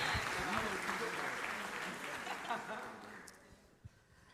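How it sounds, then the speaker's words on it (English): An audience at a university freshman convocation bursts into applause, a dense wash of clapping that swells at first and then tapers off toward the end. "Give her a round of applause for that."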